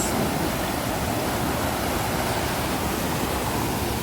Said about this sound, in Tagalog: May waterfalls.